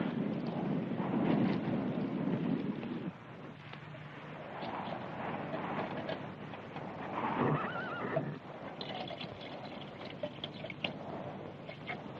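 A horse whinnies and snorts close by while hooves clop, with a rider's gear and a windy outdoor backdrop in a Western film scene.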